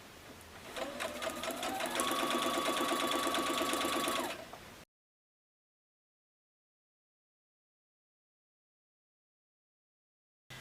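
A sewing machine runs steadily for a few seconds as it stitches pairs of fabric pieces together for a table runner, then it stops and the clip falls silent.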